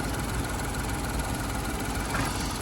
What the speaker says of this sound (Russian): Вот такой вот маленький двигатель. 3 цилиндра. Работает тихо, как часики чирикает.